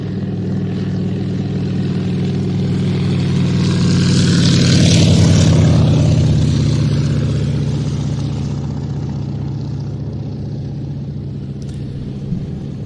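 A PZL Mielec Dromader firefighting plane flies an airshow display at Leszno, its propeller engine droning as it passes, swelling to a loud peak midway and then fading into the distance.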